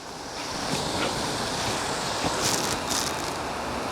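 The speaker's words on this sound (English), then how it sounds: "that there in front of me is the cascades in question" River cascades in the Peak District in autumn, a constant broad rush of falling water, moderately loud and steady throughout, with a bit of wind buffeting the microphone and no voices.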